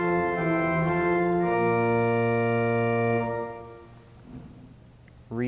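Held chords on the principal stops of a Holtkamp pipe organ in Central Christian Church, full and bright with a shifting lower note, then released to a lingering reverberant decay before a faint new sound starts.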